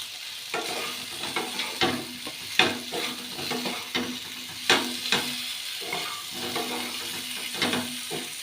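Taro (gathi kochu) frying in oil with salt and turmeric: a continuous close sizzle punctuated by frequent clinks and scrapes of a utensil stirring the pan, some strokes sharper than others.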